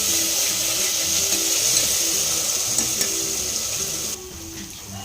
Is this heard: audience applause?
no